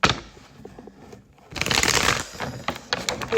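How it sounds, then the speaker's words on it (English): A deck of tarot cards is given a quick shuffle, a short burst of close, crisp riffling and flicking after a quieter stretch of faint handling. "Quick little shuffle."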